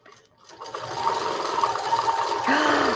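A Handi Quilter longarm quilting machine stitches with a glide foot, a fast steady whirring hum that builds up and runs continuously at close range.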